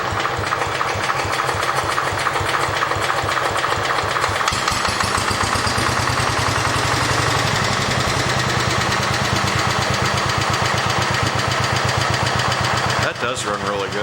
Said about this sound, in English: this is going to be the last start of this tractor before we pull the engine out of it